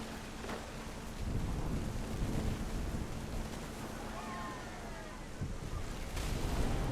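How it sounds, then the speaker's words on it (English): Thunder rumbles through a stormy scene in the video game What Remains of Edith Finch, a steady low roar with rain-like wash and surf underneath, fairly loud and continuous, with faint voices in the background. "The thunder sounded much too close and full of angry power."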